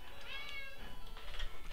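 A house cat meows close by in a few short, plaintive calls, with a faint rustle of movement following, in an otherwise quiet room.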